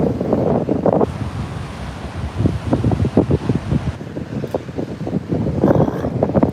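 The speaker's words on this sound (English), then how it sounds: "We have a strong northerly blowing today, so it's not making it the normal picture perfect." A strong northerly wind buffets the microphone on a beach headland, loud gusty roaring with surf washing underneath, continuous and close with no talking.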